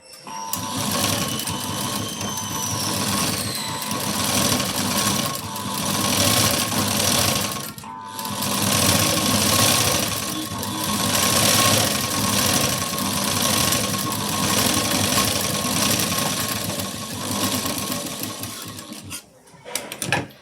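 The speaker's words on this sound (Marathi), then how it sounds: "आता याच्या कडेला एक टीप घेऊया." A sewing machine runs steadily and close while stitching along the edge of a puff sleeve. Its loud, rapid mechanical whir continues for about twenty seconds, with slight swells, one very brief pause midway and a stop at the end, and no voices.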